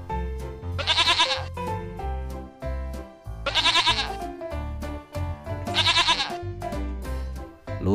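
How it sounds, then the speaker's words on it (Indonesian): A brown goat gives three loud, quavering bleats spaced a few seconds apart, up close, over a steady rhythmic musical backing. "Ini kambing, teman-teman."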